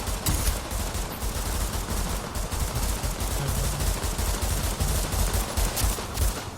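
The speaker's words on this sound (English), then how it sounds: "Kevin, how long were you firing that pistol" Pistol gunfire in a video game, a dense, unbroken stream of loud rapid shots that fills the whole stretch with no pause.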